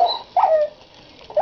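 Wolves in Minecraft Pocket Edition whimper while trapped near a spreading fire, three short high-pitched whines separated by brief pauses, clear and fairly close.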